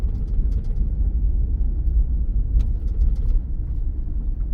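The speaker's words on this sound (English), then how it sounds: "Now we got to downshift again so we don't burn up the brakes." A car engine works downhill on a steep, abandoned mountain auto road, holding a low, steady rumbling drone close by with slight shifts in pitch as it descends, no voices heard.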